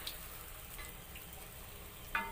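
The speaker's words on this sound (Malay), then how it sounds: "kita teruskan menggoreng ya" Vegetable curry puffs fry in hot oil with a steady, soft sizzle and occasional faint pops, a continuous low crackle with no voices.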